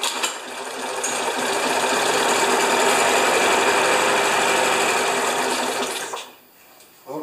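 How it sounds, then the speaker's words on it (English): Older Turf Power riding mower with a Briggs & Stratton engine running at low throttle, a loud steady mechanical drone close by that holds evenly for about six seconds, then drops off abruptly. "Engine goes round and round."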